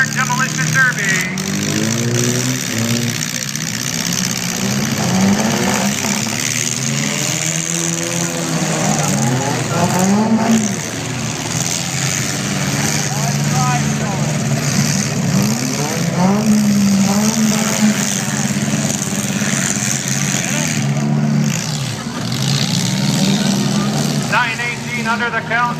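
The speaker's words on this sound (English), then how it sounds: "Five car Demolition Derby." Engines rev and growl continuously at a five-car mini demolition derby, loud and sustained with shifting pitch, while an announcer talks over the noise throughout.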